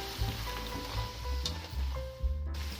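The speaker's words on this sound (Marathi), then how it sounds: "मध्ये मध्ये तळताना हलवत राहायचे, म्हणजे दोन्ही साईडनी छान तळले जातात" Sabudana fritters for fasting bhaji fry in hot oil, a soft steady sizzle with faint scraping stirs and a few bumps, close but fairly quiet, no voices.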